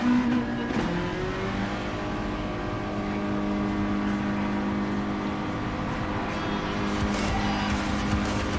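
A Mazda MX-5 Cup race car on a warm-up lap in a racing video game: a continuous droning engine note that holds steady and shifts pitch as the car runs, loud and close throughout.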